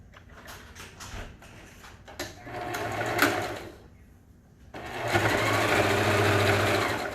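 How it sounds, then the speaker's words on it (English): A sewing machine stitches a three-layer cloth face mask with a filter. It runs in steady mechanical bursts, pauses briefly at the seam pivot, then starts again louder and continues to the end. "I'm just going to sew up to here, open this seam, pivot at the seam, and then sew down"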